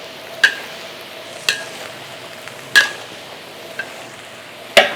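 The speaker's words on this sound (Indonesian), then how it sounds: "Langsung aja kita aduk-aduk." Five kilograms of green beans stir-fried in plenty of oil give a steady sizzle under a spatula scraping a large pan, with five distinct sharp metallic scrapes spaced about a second apart.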